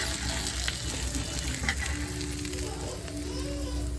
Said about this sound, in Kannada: ಬಿಸಿ ಬಿಸಿ ಫಿಶ್ ತವಾ ಫ್ರೈ ಕೂಡ ರೆಡಿ ಆಯಿತು.